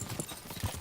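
Horse hooves clip-clopping at a gallop in the medieval game Kingdom Come: Deliverance 2, a quick steady run of low thuds lasting under a second.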